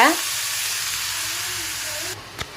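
Cauliflower dropped into hot oil: a sharp splash at the start gives way to a steady bright sizzle, cut off near the end with a small clink.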